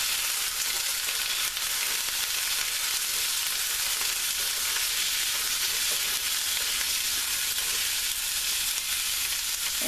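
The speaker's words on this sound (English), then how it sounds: "I should be getting a nice sear on them." Swordfish steaks sear in a hot pan with a loud, steady, close sizzle that hisses without pause from start to finish, with no voices.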